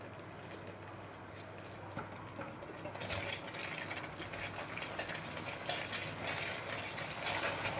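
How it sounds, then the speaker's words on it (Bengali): Boiled hog plums drop into melted sugar in a pan, a soft wet bubbling and sloshing that grows a little louder midway and continues steadily, fairly quiet and close. "চিনি গলে গেছে এবারে সেদ্ধ করা আমড়াগুলো দিয়ে দেব"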